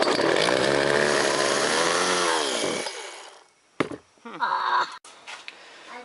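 A chainsaw engine runs on choke, a loud close roar that rises and falls in pitch for a few seconds, then sputters and dies, followed by brief weak revs and stalls.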